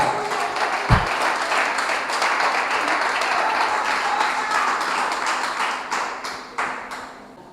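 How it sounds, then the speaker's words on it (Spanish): A church congregation claps steadily and fully for several seconds during a Spanish-language service, with a sharp thump near the start and the applause thinning toward the end. "Si vale un aplauso, denle el aplauso al Señor"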